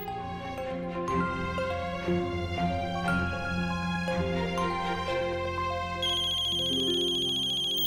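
Melodic phone ringtone playing clearly and continuously in a home, close and prominent with no voices over it.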